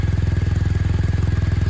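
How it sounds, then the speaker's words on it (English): A 2022 BMW R1250R SE motorcycle idles with a steady, deep boxer-twin throb, its even low pulses beating rapidly and close at hand, with a faint mechanical clatter over the exhaust note and no voices. "Has that classic BMW sort of start sound. Very different on the exhaust compared to a"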